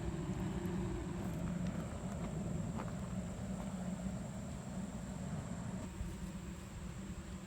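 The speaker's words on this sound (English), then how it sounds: "I don't know if you can hear that jet engine running from here or not, but it's working pretty hard over there" A jet engine burner running beside a charcoal maker, heard as a steady, loud broadband roar with a low rumble that holds constant throughout, with no pauses or talking.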